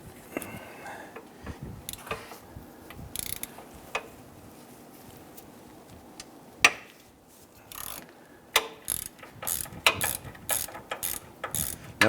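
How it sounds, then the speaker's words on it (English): A hand ratchet with a half-inch socket on a swivel head clicks as it turns a starter bolt on a 1994-2004 Ford Mustang 3.8L V6, in irregular bursts of sharp, close ratcheting clicks that grow busier toward the end. "We're going to use a 1/2 inch socket on a swivel head to go ahead and get to this."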